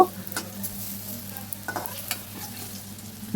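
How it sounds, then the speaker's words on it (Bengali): Steady frying sizzle of lentil fritters in mustard oil, with occasional stirring scrapes and clinks, close by, no talking. "সর্ষের তেলের মধ্যে আমি প্রথমে ডালের বড়াগুলো ভেজে নেব"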